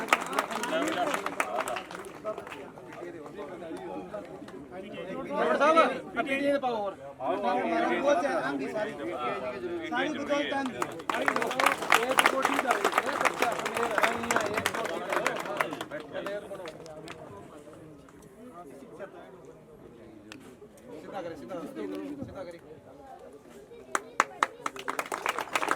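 An audience at a school inauguration ceremony in Ludhana applauds gold medalist students, with clapping surging in waves amid crowd chatter and a speaker's voice over the top.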